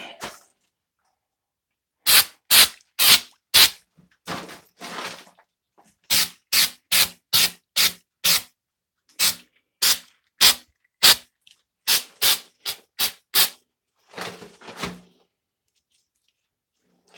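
Short bursts from a spray can coating a masked-off part, about twenty quick hissing blasts in uneven clusters with brief pauses between, close and fairly loud, no talking.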